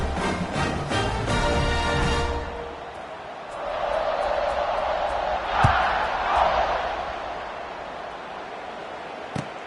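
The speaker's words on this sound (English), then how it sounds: "this crowd is feeling themselves after that last drive" Stadium crowd noise from a College Football 26 game, Notre Dame against Alabama: a dense roar that starts loud, swells again midway and carries a brief thud near the end.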